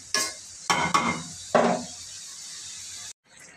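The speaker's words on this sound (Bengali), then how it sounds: "একটু কষানো হোক।" A utensil scrapes and stirs fish-head curry in a pan with a few sharp clattering strokes over a steady sizzle, loud and close, before the sound cuts out abruptly.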